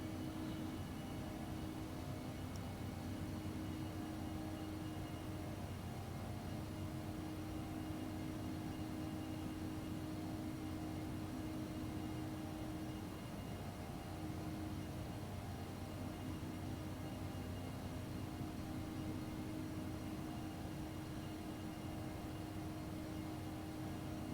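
Steady, loud cabin drone inside a Loganair Embraer E145 regional jet descending toward Glasgow through turbulence, a constant broadband roar with low engine hum running unbroken throughout.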